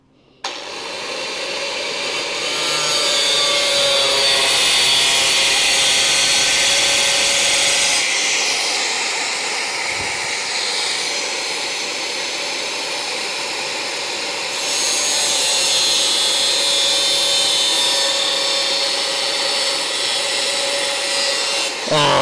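Cutting wheel grinding through a steel car frame rail on a Charger crew-cab project, a loud continuous high whine that holds steady for about twenty seconds and dips briefly midway.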